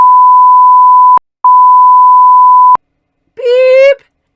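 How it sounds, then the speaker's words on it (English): Two long, steady electronic beep tones, loud and clean, separated by a brief gap, followed by a short burst of a voice. "Beep!"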